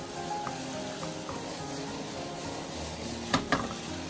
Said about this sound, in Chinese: 这是继续开大火快速的给它翻炒均匀，把调料炒至化开